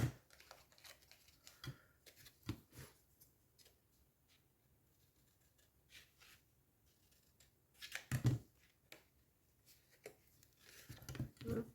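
Scissors snipping paper for a small decoration, quiet scattered cuts with a few sharper clustered snips near the end, in an otherwise hushed room.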